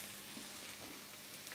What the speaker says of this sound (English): when the veggies sizzle in the pan